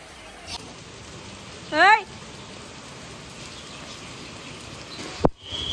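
Steady rain falls outdoors as a constant hiss throughout, with a brief bird chirp and a sharp click standing out above it.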